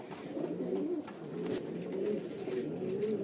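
Caged pigeons kept for sale, including kalsire, bajre, chhapdar and ude types, coo in low, continuous, overlapping murmurs close at hand, with no voices.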